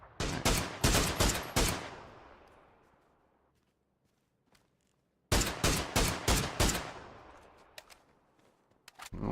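Two bursts of rapid gunfire in a PUBG match, each a quick run of sharp, loud shots with a reverberant tail fading between them, and a few faint footsteps in the gap.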